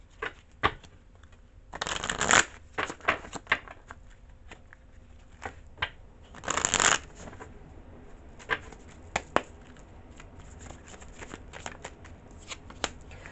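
Tarot or oracle cards are shuffled up close in crisp, papery riffles and bursts, with two louder extended shuffles and scattered lighter flicks and taps between them, alone without speech.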